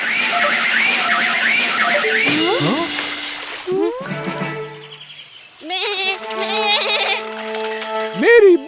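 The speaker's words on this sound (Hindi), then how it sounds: "बकरी।" A cartoon goat bleats in several wavering, drawn-out cries, loud and close, separated by short gaps and mixed with other cartoon sound effects.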